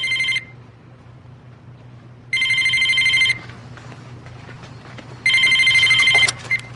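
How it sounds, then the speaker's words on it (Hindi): A telephone rings in three electronic trilling bursts separated by pauses, fairly close and clear over a steady low hum. "रेचल, फोन है।"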